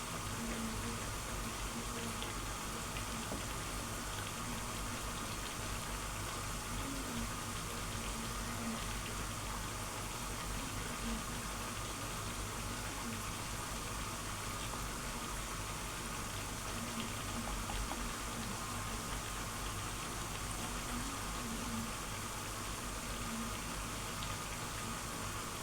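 Marinated chicken frying in hot oil for homemade hi-broast gives a steady, dense sizzle and bubbling that runs unbroken throughout, with no voices over it.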